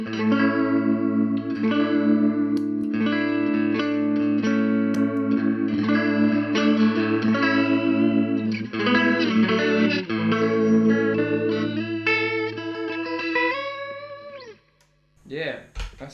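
A guitar played through a Coral Mod Vibe effect pedal with the rate lowered gives sustained, driven chords with a slow, swirling chorus-like wobble, ringing loud and steady before cutting to a brief pick scrape at the end.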